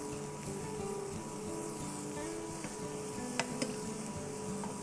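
Ingredients sizzle in a pan of fresh CSA farm produce as they are stirred. A steady, close frying hiss carries throughout, with a couple of faint clinks from the utensil, and no one talks.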